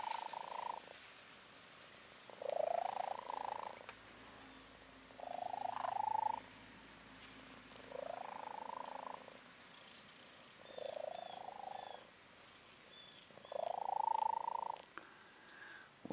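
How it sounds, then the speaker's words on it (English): A cat purring loudly and close by, the rumbling purr swelling in regular bursts with quieter gaps between them. "Listen, see if you can hear how loud his purr is."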